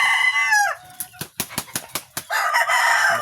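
Laying hens in a backyard flock in Cavite give a few falling clucks, then a rapid burst of sharp wing flaps, followed by a steady murmur of clucking close by.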